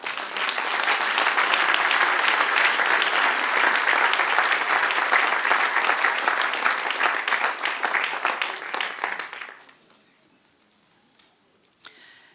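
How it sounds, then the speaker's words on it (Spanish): A large church congregation applauds loudly and steadily for several seconds, then the clapping fades away into near silence. "Denle un aplauso al Señor"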